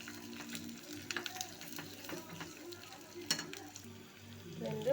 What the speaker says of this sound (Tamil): எண்ணெய் சூடான கடுகு, கறிவேப்பிலை, வெங்காயம் நல்லா வதங்கட்டும்.